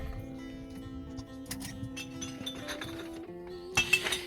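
Glass items clink and knock together at an outdoor recycling point, a scattered series of bright chinks and rattles that grows louder in a final burst, with no talking.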